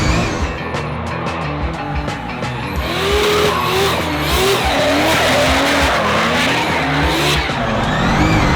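A drift race car skids with loud, sustained tire squeal at a D1GP drift event in Thailand, the engine roaring and rising under wailing, swooping squeals close by.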